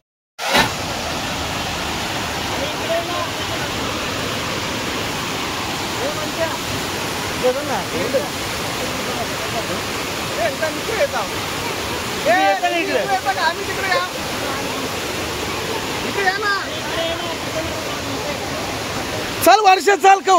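A waterfall roars as a constant, broad rushing wash through the whole stretch, with brief bursts of nearby voices now and then over the steady water.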